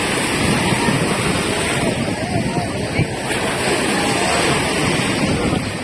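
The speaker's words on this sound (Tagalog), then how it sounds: "Lakas na ng alon mga kabantay. Lakas ang alon." Strong sea waves churning around a racing boat at the Kress Cup off Pinamalayan, Oriental Mindoro, a loud continuous rush of surf and spray mixed with heavy wind buffeting on the microphone.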